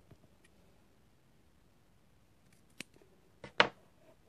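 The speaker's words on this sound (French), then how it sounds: "Coupe un petit morceau, je coupe en deux." Scissors snipping a small piece of paper in a quiet room, a few faint clicks followed by one crisp, louder cut near the end.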